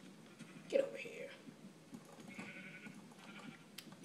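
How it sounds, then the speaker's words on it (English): A sheep in the Minecraft video game gives a short bleat under quiet whispered talk, followed by soft game sounds and murmuring. "Just slayed that sheep."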